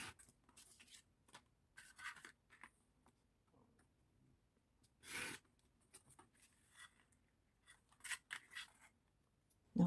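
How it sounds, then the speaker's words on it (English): Scissors cutting a piece out of a handbag being upcycled into a gift bag, quiet, close snips and rustles scattered across the stretch, with one louder, longer cut around the middle. "So I'm going to cut that whole piece out."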